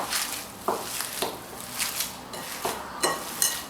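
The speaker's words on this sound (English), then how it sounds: "I'm just going to combine the two mixtures. I'm going to mix them by hand." Potato cutlet (aloo tikki) mixture is worked by hand in a bowl, making faint, soft squishing and pressing sounds in a steady rhythm about twice a second.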